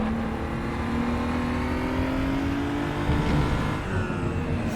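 A BMW M235i Racing car in the RaceRoom racing game drones steadily under light throttle, its engine note sliding gradually with a slight dip and recovery, loud and continuous from the cockpit with no voice over it.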